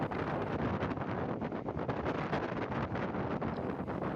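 Wind rushing in at the open door of a moving train near Bandel in Hooghly, a loud, steady broadband roar with constant buffeting and no talk.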